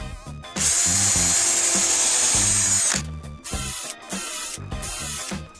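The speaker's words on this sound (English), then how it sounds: "And then just screw them onto your block, leaving one side hanging out." A power drill drives screws into wood blocks to make C-clamps. A loud, close, sustained whine lasts a couple of seconds, followed by shorter bursts of drilling and brief pauses.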